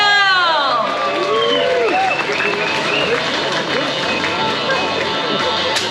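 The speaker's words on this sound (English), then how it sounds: "Let's give a big round of applause for our Jukebox Jezebel." Crowd at a pin-up contest breaks into loud, sustained cheering, whoops and applause, with shouting voices layered throughout.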